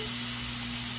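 Hot dogs sizzling in a hot pan, a steady, dense crackle of frying fat heard close and continuous with a constant background hum, no voices over it.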